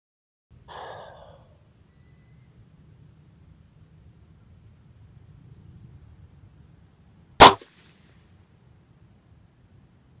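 A .22 air rifle fires a single pellet: one sharp, loud crack late in an otherwise near-silent stretch, with only a faint breath and low background hum before it.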